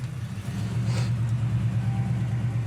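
The engine of a 1967 Chevrolet Chevelle Super Sport runs with a steady, deep low rumble, close and even, with no talking.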